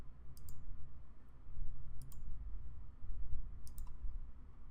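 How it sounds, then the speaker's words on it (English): A computer mouse clicks in quick pairs, three crisp double-clicks spaced about a second and a half apart over a low, rumbling room hum. "We'll click on it."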